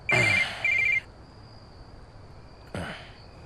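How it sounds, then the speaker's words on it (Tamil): A telephone rings in two quick bursts close by, then falls quiet over a faint steady background hum before a brief third ring starts near the end. "ஃபோன் வருது."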